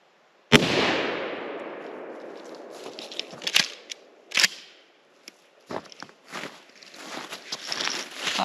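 A single sharp, loud shotgun blast goes off during a grouse hunt and is followed by a long decaying echo, then scattered footsteps and rustling outdoors.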